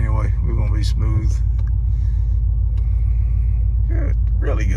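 V8 engine of a 1980 Porsche 928 on the road, a deep steady rumble heard from inside the car as it drives, with someone talking over it in places.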